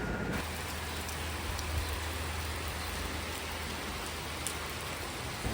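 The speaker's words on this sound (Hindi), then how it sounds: "एकदम से होने लगी थी बारिश" Steady rain pours down throughout, a dense, even hiss of drops on surfaces close by, with no voices and only a faint low rumble underneath.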